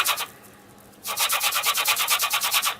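An orange's peel is rubbed back and forth, giving rhythmic scratchy strokes, one brief pass then a steady run of about a dozen close, even rubs.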